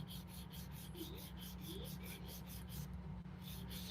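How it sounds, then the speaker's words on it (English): A nail file rubbed lightly along a fingernail with no pressure, soft rhythmic close strokes repeating steadily over a low constant hum. "Put your file at the lowest point and just no pressure."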